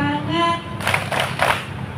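A class of primary-school children at SD Negeri Gabus 1 in Sragen claps hands along with a group song, producing broadband claps in a loose rhythm over sung voices.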